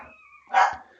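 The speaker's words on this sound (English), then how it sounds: "Sorry about my dogs." A dog barks once, sharp and fairly close, just after a thin whine, with quiet between.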